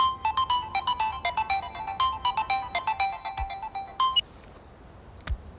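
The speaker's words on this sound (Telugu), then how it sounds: "ఫోన్ చేస్తే ఫోన్ ఎత్తవేంటి?" A mobile phone rings unanswered, its bright electronic melody repeating in quick rhythmic bursts, then shifting to sustained high tones before falling silent, with a couple of soft low thumps.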